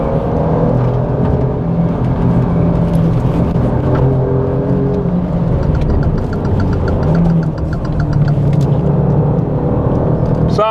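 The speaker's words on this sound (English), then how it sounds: "let you enjoy the rest of this lap with a little bit of sound from that glorious V6" An Alfa Romeo Giulia with a V6 engine lapping a track: a loud, continuous engine drone with tyre and road rumble, heard from inside the car.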